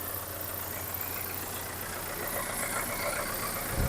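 A 1979 Fiat 640 tractor's diesel engine with a CAV diesel pump idles steadily, giving a low, even rumble with a constant chugging texture throughout and no voices.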